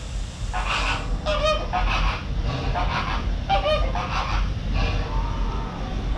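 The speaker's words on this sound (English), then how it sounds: "Now these are the lesser flamingos. And those are the Caribbean flamingos." Lesser and Caribbean flamingos in a zoo enclosure keep up a loud, continuous goose-like honking chorus, with repeated nasal calls overlapping against a steady background din.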